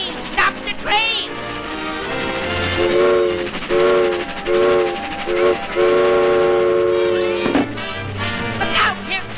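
A cartoon train from a 1936 animated short rolls along with steady rattling and chugging, broken by repeated loud whistle toots and frantic shouting voices over the clatter.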